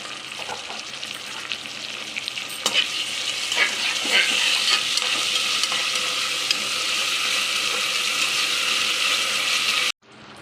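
Ingredients for tomato rice with ginger-garlic paste frying in a pan, a steady loud sizzle with scattered crackles and stirring clinks, alone, cutting off abruptly near the end.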